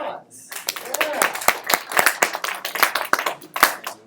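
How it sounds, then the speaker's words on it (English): Audience applauding in a room: a burst of claps, fairly close and uneven, with voices talking over it throughout. "round of applause."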